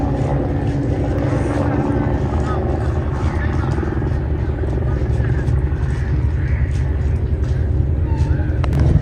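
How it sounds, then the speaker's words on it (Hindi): A rescue helicopter circles overhead above a flooded area, its steady low rotor thrum droning continuously beneath a voice talking throughout. "देखें जी हेलीकॉप्टर भी घूम रहा है इधर ऊपर जहाँ पर सैलाब आया हुआ है"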